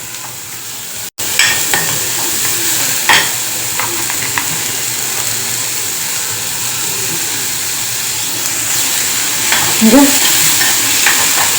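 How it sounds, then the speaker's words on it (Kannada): Vegetables being stirred and fried in butter in a pan for corn soup, a steady close sizzle with scraping stir strokes throughout, nearly alone apart from one brief spoken word. "ತರಕಾರಿನ ಫ್ರೈ ಮಾಡ್ಕೊಳಕತ್ತೀನಿ ನೋಡ್ರಿ."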